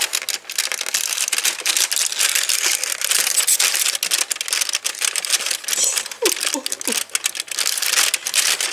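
An advent calendar's cardboard box being ripped open by hand at home, dense crinkling, tearing and crunching bursts close up, with a few faint vocal noises mixed in.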